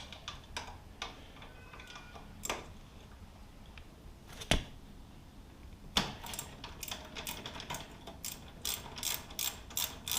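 A ratchet with a 12mm socket loosens bolts on a 2014 Yamaha R1 wheel, giving quiet irregular clicking and a few sharper clacks, then a quick run of ratcheting clicks near the end.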